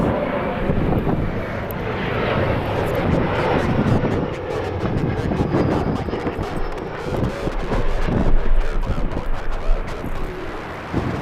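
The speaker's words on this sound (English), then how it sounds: "let's go for the little E175" Embraer E175 jet landing on runway 24 right at LAX, a steady broad engine roar with rushing wind noise heard from a distance, swelling slightly as it passes and holding strong to the end.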